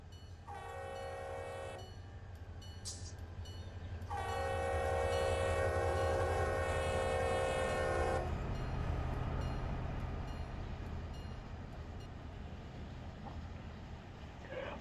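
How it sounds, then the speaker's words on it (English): A train horn sequence in a train simulator video game sounds two long, loud multi-tone blasts separated by a short gap, over a low rumbling engine and rail noise that continues after the horn stops. "it's performing the original horn sequence"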